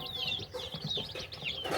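Newly hatched native village chicks chirp close by, high, thin peeps rising and falling in a quick, uneven run, with soft low rustling beneath.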